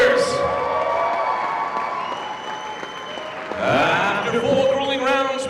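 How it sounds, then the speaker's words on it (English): Casino crowd at a boxing event applauding both fighters after four rounds, a dense steady wash of clapping with cheers and whoops rising near the end, an announcer's voice over it. "how about a round of applause for both these brave warriors?"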